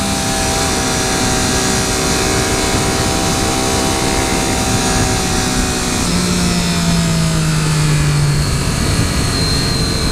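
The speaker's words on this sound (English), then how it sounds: "engine braking on this bike is so smooth" A 2013 Triumph Daytona 675R motorcycle engine braking on the road, a steady mechanical whine with gradually falling engine tones under constant heavy wind rush, loud and continuous.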